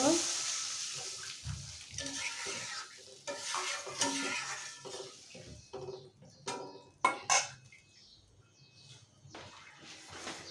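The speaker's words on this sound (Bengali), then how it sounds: "এখন আমি ঝোলের জন্য জল দেব।" Water is poured into a taro (kochu mukhi) curry fried with spices, splashing and swirling in the pot amid stirring, utensil clinks and a faint sizzle, with a couple of sharp knocks near the middle.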